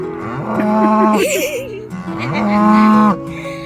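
Cattle mooing loudly and close in the California wilderness, several long drawn-out lowing calls in succession, one rising and wavering, with a brief gap between calls.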